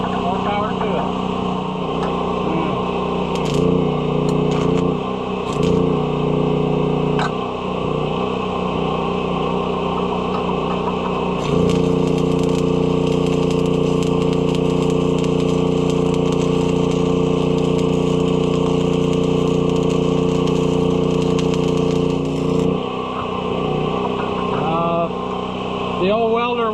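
A portable generator runs steadily during repair work on a New Holland 851 baler, a loud continuous engine drone with a strong tonal hum that rises in load midway, with occasional clanks and talk over it.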